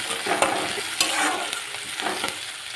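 Onion and garlic cloves fry in hot oil for a Bengali lote fish jhuri, a loud, close sizzle with scraping and stirring strokes of a spatula throughout.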